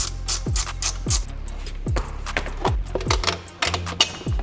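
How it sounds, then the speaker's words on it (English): A small 8mm ratchet working a front bumper bolt on a BMW 335 gives a close, steady series of crisp clicks, roughly two per second, each with a short ringing tail. "I use this little ratchet because it gets in there really nice. It makes it super easy for me to remove this bolt."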